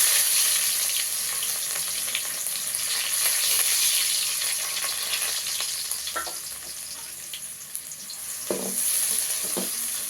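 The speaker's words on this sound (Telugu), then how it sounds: "ఉల్లిగడ్డ వేసిన తర్వాత బాగా వేగాలండి" Chopped onions sizzle steadily in hot oil in a pan for a cabbage and egg fry, a continuous bright hiss with a few soft stirring clinks near the end and no talk.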